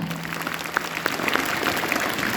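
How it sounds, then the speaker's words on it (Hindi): Audience at a Diwali and Chhath celebration applauding children after their dance drama, a continuous bed of many hands clapping, fairly loud and steady, with a faint hum early on. "इन बच्चों के लिए जोरदार तालियां"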